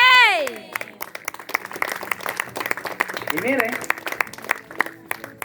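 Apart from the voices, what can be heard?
congregation applauding in church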